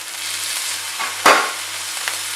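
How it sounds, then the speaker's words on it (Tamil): Chicken rice masala with garlic paste, chilli, pepper, garam masala and soy sauce frying in a pan, a close steady sizzle with a sharp clatter of stirring midway and a low hum underneath. "இது நல்லா இப்போ ஃப்ரை ஆகணும்."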